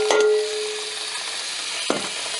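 Steam hissing off a pot of freshly blanched green beans, a steady broadband hiss close by, with a brief pot clank near the start and another near the end.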